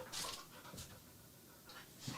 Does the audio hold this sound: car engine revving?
no